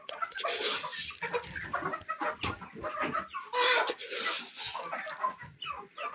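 Roosters and hens cluck busily at close range as rice and marble chips are scattered for them to eat, a continuous overlapping chatter of calls with a little background rustle.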